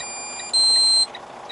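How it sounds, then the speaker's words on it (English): A truck's radar system gives a single sharp, high electronic beep lasting about half a second over a quiet cab hum. "radar system beeping at me."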